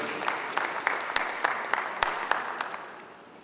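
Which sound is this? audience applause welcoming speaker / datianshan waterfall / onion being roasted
audience applause welcoming speaker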